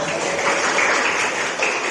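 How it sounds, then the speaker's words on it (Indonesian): A class applauds in a school room, a short burst of moderately loud, scattered clapping from many hands that holds steady for a couple of seconds. "Tepuk tangan kita semua."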